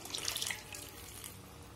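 Half a kilo of milk poured into a pan of grated carrot halwa, a brief close liquid pouring and splashing rush that is strongest at the start and then settles, with no voices.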